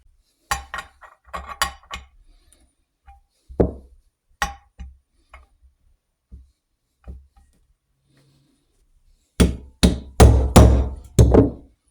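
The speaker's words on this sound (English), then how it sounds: "Find a socket of the right size, and then we'll knock it in." A camshaft oil seal is driven into a Norton Commando timing case using a socket, producing sharp metallic hammer knocks: scattered single taps, then a rapid burst of heavier blows near the end.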